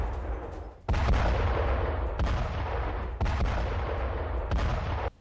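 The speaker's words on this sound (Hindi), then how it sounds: "सेंट्रल इजराइल में 3 जगहों पर जोरदार धमाका, मीडियम रेंज बैलिस्टिक मिसाइलें दागी गई हैं।" Heavy blasts from a medium-range ballistic missile attack on central Israel boom one after another, four sharp loud impacts each followed by a long rumbling tail, with no speech over them.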